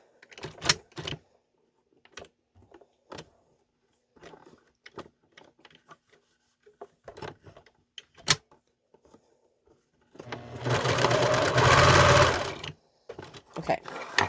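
A sewing machine bastes elastic onto a fabric elf mask, its fast steady stitching running loud for about two seconds after a stretch of faint handling clicks and rustles.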